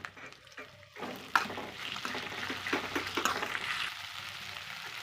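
Okra stir-fries in hot oil in a pan, with a steady close sizzle and repeated scraping stirs that build after a quieter start.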